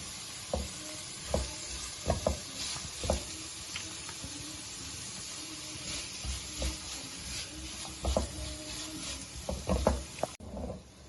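Capsicum and carrot fry in a pan with fajita sauce for a beef burger filling, a steady sizzle broken by repeated sharp knocks and scrapes of a spatula stirring against the pan, close and fairly loud, with no talking.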